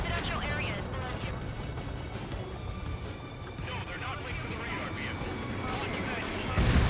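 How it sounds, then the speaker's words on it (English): Huge in-game explosion during an aerial combat mission in Ace Combat 7, a dense sustained rumbling roar of blasts and gunfire-like bursts filling the whole stretch, swelling louder at the end. "That was a fucking giant explosion."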